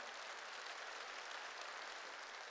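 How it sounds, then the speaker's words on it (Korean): A church congregation applauds during a sermon, a steady, dense wash of clapping from many hands that holds evenly throughout. "박수로 하나님께 영광 돌리시기 바랍니다"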